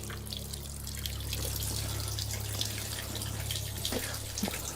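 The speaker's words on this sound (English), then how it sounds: "Let me wash my hands in the healing water again." Spring water splashes and trickles over hands being washed at a natural iron-rich spring outdoors, a steady close watery wash with a low constant hum beneath and a few louder drips near the end.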